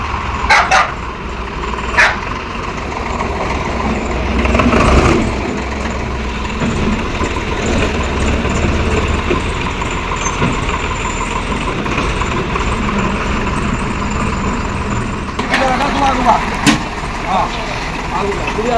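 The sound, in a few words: tractor engine running while riding to the fields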